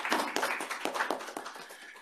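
An audience at a policy forum on carbon neutrality and nuclear power claps to welcome a Seoul National University nuclear engineering professor. The clapping is brief and fairly close, a scattered patter of hands that thins and fades within a couple of seconds.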